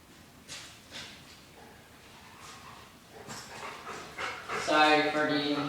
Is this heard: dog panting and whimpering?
yes